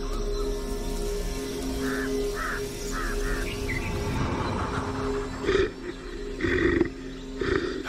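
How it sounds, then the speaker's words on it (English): A Bengal tiger in an Indian jungle lets out low, rumbling roars over a dense bed of birdsong and insect drone, with occasional louder grunting bursts toward the end. "Home to arguably the Earth's most beautiful killer, the Bengal tiger."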